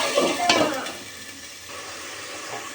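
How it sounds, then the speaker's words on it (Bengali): Rohu fish head is fried with spices in a pan: a close sizzle with scraping stirs, louder at the start and then settling into a softer, steady frying hiss. "এখন এই যে রুই মাছের মাথাটা দিয়ে কষিয়ে নিব কিছুক্ষণ"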